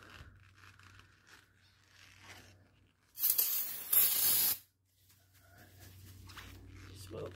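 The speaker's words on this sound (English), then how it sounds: "Use this brake cleaner spray" A loud hissing aerosol brake cleaner spray bursts for about a second and a half, with a short break midway, during rear brake work on a Lexus NX200t, between quieter stretches of background noise and movement.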